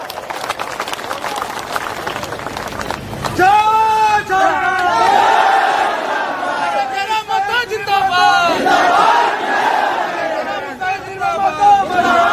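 A dense crowd at a political rally erupts in loud cheering and shouting that swells after a quieter start and stays sustained, with whistles and voices overlapping throughout.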